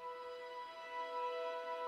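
Orchestral fantasy theme with celeste doubling harp, sparkling high tones over sustained chords, soft and even throughout with no voices.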